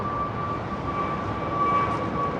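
Lufthansa airliner at London Heathrow Airport, a steady, moderately loud jet engine rumble with a sustained whine, holding level throughout and growing slightly louder near the end.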